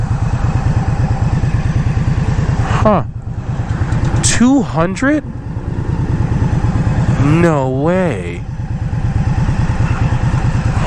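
A 2022 Indian Scout Rogue Sixty engine drones steadily while riding, loud and close with a low pulsing throb, as a rider speaks briefly over it.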